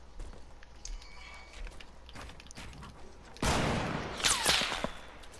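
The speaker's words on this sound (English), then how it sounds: "We're getting sniped." Gunfire during a Fortnite squad fight: faint scattered shots and clicks at first, then a loud, sharp report with a ringing tail and a second burst shortly after.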